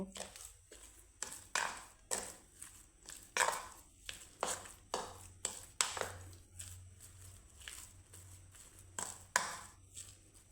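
Pitha dough of flour, baking powder and a little water mixed by hand, giving a steady run of close, wet slapping pats about every half second over a low background hum.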